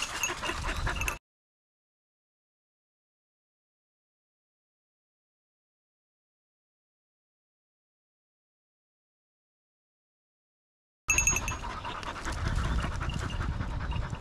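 A hunting dog used on a wild boar hunt pants and whimpers close by in short bursts at the start and end, with a long silent gap between them.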